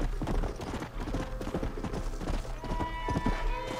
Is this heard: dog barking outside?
no